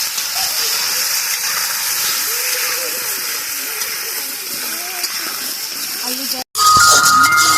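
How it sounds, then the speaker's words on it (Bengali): Spice paste sizzling and frying in a pot at an outdoor picnic, a steady loud hiss with bubbling over faint background voices, breaking off briefly near the end before resuming. "এখানে মশলাটা কষানো হচ্ছে"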